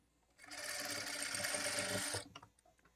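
A sewing machine runs in one continuous burst of rapid, close stitching for about two seconds while sewing a blouse side seam, then stops with a few faint clicks.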